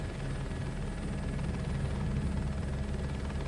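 A helicopter in Microsoft Flight Simulator 2024 gives a continuous, loud rotor thrum with a steady engine whine, holding constant and close throughout. No talking.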